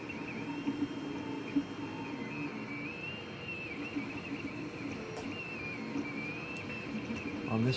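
A Tevo Tornado 3D printer runs a print at reduced speed, its stepper motors whining and warbling quietly and continuously with a few faint clicks.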